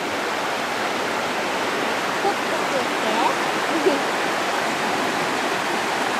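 A river in Yoro Valley rushes steadily over stones as its channel widens downstream, giving a continuous, even wash of water noise with no breaks across the whole stretch.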